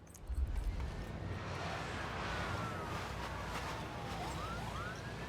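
Fire truck siren in the SimCity video game: faint wailing sweeps rise and fall under a dense, steady city hum.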